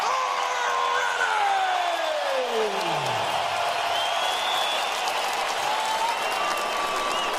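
A packed boxing arena crowd in Las Vegas, a roaring wall of applause and cheering with scattered whoops, steady and loud, with an announcer's voice stretching a call over the noise.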